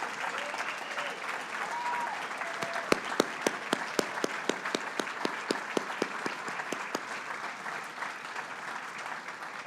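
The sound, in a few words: applause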